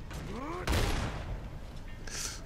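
A gunshot from the video game Gears of War 2 rings out as a sharp, loud blast with a short rumbling tail, following a brief electronic warble and ahead of a faint hiss.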